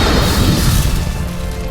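A massive smashing impact from Obelisk's Fist of Fate attack in a Yu-Gi-Oh! duel, a loud booming crash with a dense low rumble that sustains and slowly fades over under two seconds, with no talking.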